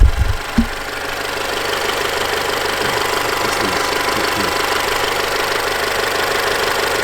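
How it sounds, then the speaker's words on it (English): Steady idle of a 2021 Alfa Romeo Giulia's 2-liter single-turbo four-cylinder, a low even hum that keeps going after a brief bump at the start, with no voices. "It has the 2-liter turbocharged motor, single turbo."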